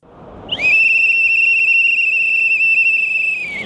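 A single loud, sustained whistle blast starts abruptly and holds a steady shrill pitch for about three seconds, with a faint bit of background noise before it.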